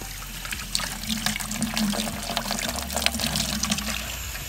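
Water flows steadily through a deionized water filter system for spot-free rinsing at about 2.5 gallons per minute. The stream is close and continuous, pouring and trickling with a constant low hum underneath.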